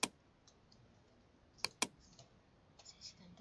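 Quiet computer keyboard keystrokes during a Photoshop text-entry lesson: a sharp click at the start, then two distinct key presses close together like pressing Enter, with faint softer taps in between and near the end.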